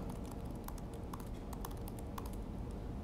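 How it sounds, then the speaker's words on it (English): Steady typing on a computer keyboard at a desk, with irregular clicking keystrokes and a few sharper key hits standing out over a constant low background hum, close and fairly quiet. "I'll try to type slow."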